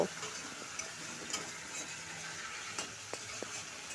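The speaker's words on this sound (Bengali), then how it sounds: "এই অবস্থায় এখানে আমি একটু জল মিশিয়ে আবার কিছুক্ষণ কষে নেব।" Eggplant curry being stir-fried in a pan after a splash of water is added: a faint, soft sizzle with a few light scrapes and taps of stirring, close by, with no talking.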